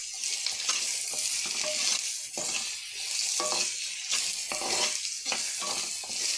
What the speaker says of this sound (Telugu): బాగా ఫ్రై అయ్యాక ఎర్రగా ఫ్రై కావాలి.